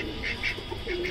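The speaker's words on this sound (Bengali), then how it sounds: "এই হচ্ছে হাঁসগুলো" Ducks kept among chickens and turkeys give a few faint, brief quacks over quiet farmyard background.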